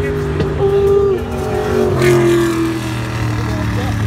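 A race car at the XRP Racetrack idles and revs close by in a loud, steady engine drone with rising and falling pitch, while people talk nearby.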